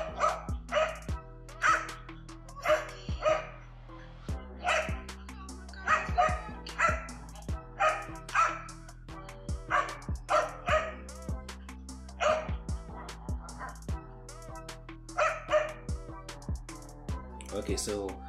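A dog barks in a played-back recording, with short repeated barks and yips spread through the clip over a steady low background hum and other mixed sound.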